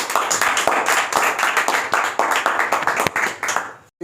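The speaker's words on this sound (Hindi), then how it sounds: "उनके सम्मान में आप लोग जोरदार तालियां बजाएं" An audience at a poetry gathering claps loudly to welcome a poet, a dense burst of many hands that swells and pulses before stopping abruptly.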